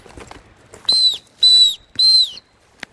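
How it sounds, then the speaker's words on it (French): A small whistle built into a backpack strap is blown in three short, shrill blasts in quick succession, close and loud against near silence. "sous le sac à dos, tu as un sifflet qui est incorporé souvent"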